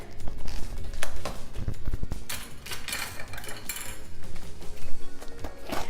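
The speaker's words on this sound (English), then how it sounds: "Just breaking up some of this avocado." Avocado being broken up in a bowl with a utensil for chicken avocado egg roll filling, with repeated irregular clinks and scrapes of metal against the bowl at close range, busy and uneven, with no voice.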